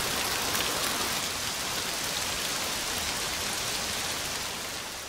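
Rain falls steadily in a Kamurocho street scene from the game Yakuza Kiwami 2, a dense, even hiss of drops with no voices and no let-up.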